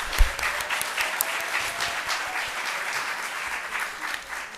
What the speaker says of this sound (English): Let's give Dr. McCarthey another round of applause.